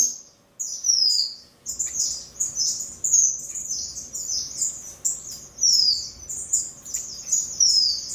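Finches in an aviary give repeated high, bright chirps and short descending tweets in quick bursts. They sound close and clear over quiet surroundings.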